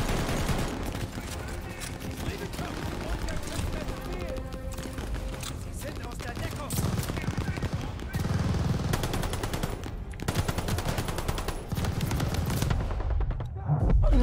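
Machine gun fire from an MG nest in Call of Duty Vanguard rattles in dense, sustained bursts amid loud game chaos, with voices shouting over the fighting.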